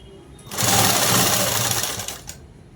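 A sewing machine stitches blouse cloth, starting abruptly into a loud, close, fast whirring run that lasts about two seconds before stopping, with soft background noise around it.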